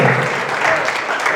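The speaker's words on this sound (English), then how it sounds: "Clap it up for that right there." A seminar audience breaks into loud, continuous applause, dense and close, with no voices over it.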